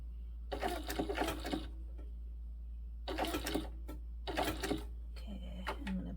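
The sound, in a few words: sewing machine stitching a bag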